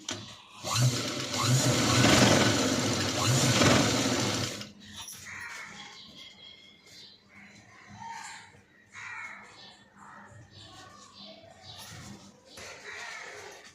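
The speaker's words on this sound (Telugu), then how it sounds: "ఇది ఒక సైడ్ ఫోల్డ్ చేసి స్టిచ్ చేస్తున్నాను" A sewing machine runs in a fast continuous whir for several seconds, stitching a folded strip of cloth for a princess cut blouse, then falls quiet as soft voices and scattered background sounds follow.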